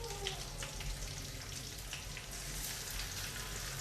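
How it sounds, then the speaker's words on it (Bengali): Ginger and green chilli paste sizzling in a pan with elephant foot yam for a Bengali dalna, a steady close crackle and hiss of frying throughout. "আদা কাঁচা লঙ্কা দিয়ে একটু কষিয়ে নিতে হবে।"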